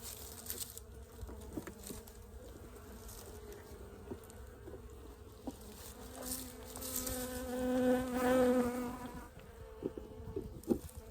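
Honey bees buzz around a hive while a frame feeder is fitted. The drone is dense and close and rises in a louder, higher swell halfway through. Faint handling clicks sound beneath it, and no one speaks.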